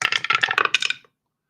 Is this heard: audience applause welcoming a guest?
no